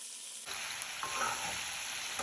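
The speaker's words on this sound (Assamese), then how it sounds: "ইয়াতে আমি সৰু আলু আৰু বেঙেনা ধুনীয়াকৈ ফ্ৰাই কৰি ল'ম।" Small potatoes and brinjal hit a hot pan with a sudden, loud, steady sizzle of frying that carries on without pause.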